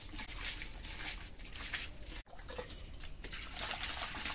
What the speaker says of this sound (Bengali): মাছটা আমি সুন্দর করে ধুয়ে নিচ্ছি ডলে ডলে।